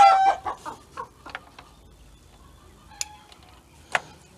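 Frightened chickens on a poultry farm in Pakistan let out a quick burst of close, nervous clucks, then fall mostly quiet apart from two sharp isolated calls.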